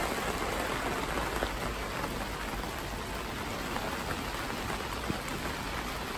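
Heavy rain drums steadily on a polytunnel roof during freak weather, a dense, continuous hiss and patter that stays loud and even throughout, with an occasional sharper drop standing out.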